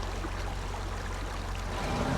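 A steady broadband rush of falling water from a waterfall in the Snowrunner video game, constant and unbroken.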